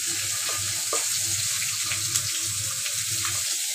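Chopped onions sizzle in hot oil with curry leaves in a pan for poha pulao, a steady bright frying hiss with soft low clatters underneath, close and continuous without any talking.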